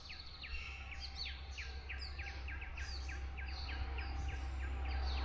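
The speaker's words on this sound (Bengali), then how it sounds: "পাখিদের আওয়াজ শুনতে পাচ্ছ?" Small birds chirping in the hills at Rongtong, repeated short bright calls from several birds at a moderate distance over a steady low background hum, with no talking.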